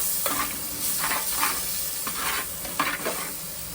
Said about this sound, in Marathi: आता त्याला मिक्स करून घेऊ.